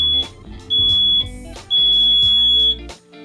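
A piercing, high-pitched electronic buzzer from a personal security alarm shrieks in three bursts, the last one longest, loud and close.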